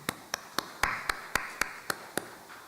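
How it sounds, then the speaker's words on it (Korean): Sparse hand claps ring out in a church congregation during a Sunday morning service, about nine sharp, evenly spaced claps in a row, close and distinct against a quiet room. "박수해 주시기 바랍니다"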